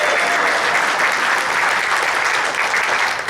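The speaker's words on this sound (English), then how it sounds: "Round of applause for my long-suffering wife" Loud, dense audience applause at a comedy show in an arts center, steady and sustained throughout, with a faint wash of crowd noise beneath the clapping.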